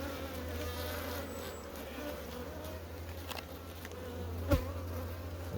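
A honeybee swarm built up over five days buzzes steadily and up close, a dense unbroken hum from many bees with one brief louder bump near the end.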